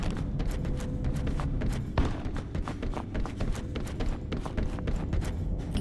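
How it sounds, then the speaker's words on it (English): Rapid, steady footsteps of an armored soldier running through a Halo Campaign Evolved trailer scene, dense regular thuds over a busy game soundtrack, fairly close and continuous. "You can still hear his footsteps, I like that."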